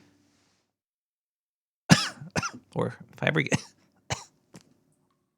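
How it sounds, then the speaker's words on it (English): Several harsh coughing bursts with throat clearing from a man, close up, in an irregular run of about five or six fits after a quiet start, with a few spoken words mixed in. "Coughing's making my head hurt now"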